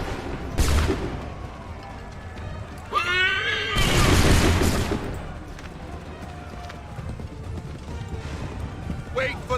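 Musket volley in Assassin's Creed III Remastered, with loud bursts of massed gunfire and a booming crack amid battlefield noise, hoofbeats and shouted orders.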